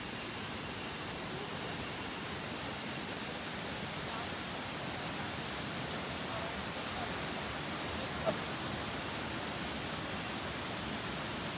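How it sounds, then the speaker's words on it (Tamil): Water pours down the 33 Waterfalls in Munnar with a steady, unbroken broadband rush, constant in loudness throughout and with no voices. "33 வாட்டர் ஃபால்ஸ்லாம் நல்லாவே தண்ணி வருது."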